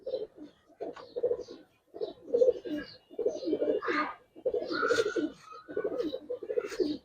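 Giribaz pigeons in a loft giving soft, repeated throaty coos in close, rhythmic bursts with short pauses between, several birds overlapping nearby.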